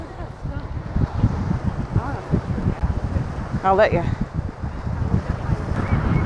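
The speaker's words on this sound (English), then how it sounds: "I don't know if you can hear me because it's super windy" Strong gusting wind by a lake buffets the microphone in a low, rumbling roar while a person speaks briefly over it.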